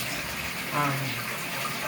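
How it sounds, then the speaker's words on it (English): Hot water runs steadily from a kitchen tap while puppy food is prepared, a continuous close gush with a brief swell in the middle. "It comes out really hot out of my tap, actually."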